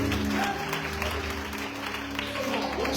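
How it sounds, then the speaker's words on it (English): A church congregation claps in praise during a revival service, producing a dense, steady wash of hands under music and voices. "Clap your hand. Give God praise."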